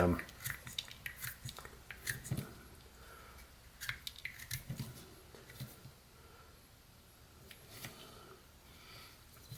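A pocket knife makes small texturing cuts in walnut wood during a carving, heard as faint, close scraping and snicking strokes at an irregular pace with quiet pauses between them.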